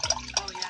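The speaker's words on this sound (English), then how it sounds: "This is the sound of the wine going into my tin cup." Wine poured into a tin cup, a short liquid gurgle and splash with a bright metallic ring. A voice speaks briefly over the pour.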